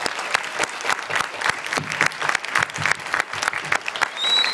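Audience in a lecture hall bursts into steady, lively applause, dense clapping close and loud throughout, with no talk over it.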